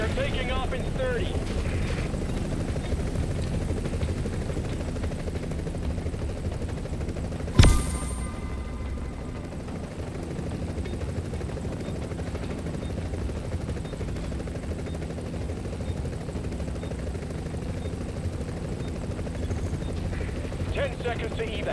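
Hovering helicopter in The Division 2 waits on the ground for an evac, a steady low rotor drone running throughout with one sharp burst midway and game voices speaking over it.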